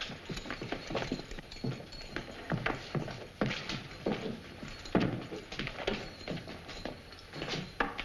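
Horse hooves clip-clop steadily through the whole stretch, near and moderately loud, in an old 1943 Western film setting, with no talk over them.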